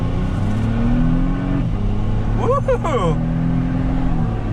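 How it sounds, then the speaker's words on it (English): A twin-turbo V6 Lexus GX550 in sport mode pulls hard under acceleration, its engine note climbing steadily up to about fifty miles an hour, with a shift break midway and a person whooping excitedly over the run. "let's see how much get up and go this twin turbo V6 has"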